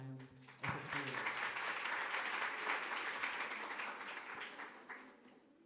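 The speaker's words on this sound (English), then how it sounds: "Let's just give them another round of applause." Audience applause for guest speakers at an academic dialogue event, sustained clapping from a seated crowd that swells after a brief lead-in and gradually tapers off near the end.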